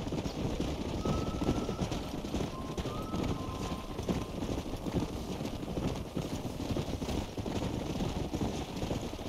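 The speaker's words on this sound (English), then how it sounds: "Look at that golden horse." Horse hooves clip-clop in a steady rhythm across the whole stretch in Red Dead Redemption, a golden horse walking at a moderate pace under a low outdoor ambience with a faint tonal chirp.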